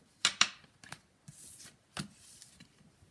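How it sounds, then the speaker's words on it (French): A deck of playing cards is shuffled up close: two crisp, sharp riffles, then lighter scattered flicks and a softer sliding shuffle in an otherwise quiet room. "On va rebattre les cartes."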